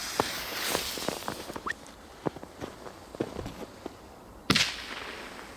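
A small 'bombka' firecracker goes off in snow with one sharp, close bang near the end, after a run of faint crackles and scuffing.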